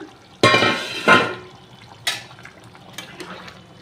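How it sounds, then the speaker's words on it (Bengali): Raw potatoes dropped into a pot of chicken simmering in its cooking water: two close splashy plops, then a smaller splash and faint bubbling and dripping. "এবার আমি এই দেখো আলুগুলোকে দিয়ে দিলাম।"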